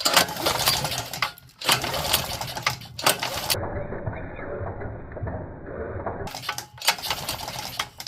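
A small engine is pull-started by hand to check for spark, giving repeated bursts of ragged mechanical whirring and clatter separated by brief pauses, close and fairly loud.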